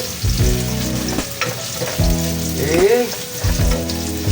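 Onions sizzle and fry in a pan, a crackling hiss that is stirred at intervals, with a brief spoken word and some tonal background sound layered over it.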